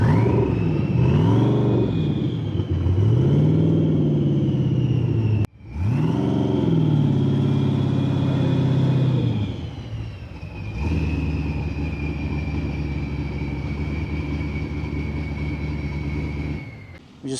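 A loud sand car engine revs and rumbles continuously at the Glamis Sand Dunes, its pitch rising and falling through several surges before settling into a steady drone.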